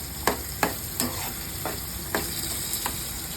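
Garlic paste fries in hot oil with a steady dense sizzle, broken by several sharp spoon or spatula clacks against the pan as it is stirred, close and continuous.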